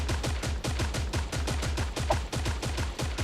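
Rapid Uzi submachine gun bursts from the shooter game Creative Destruction, loud close shots fired in a fast, even automatic stream that barely pauses.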